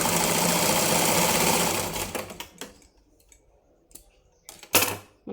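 A sewing machine runs steadily while stitching the lining of a blouse, a loud continuous mechanical whir for about two seconds, then stops, leaving only a few soft handling clicks and taps.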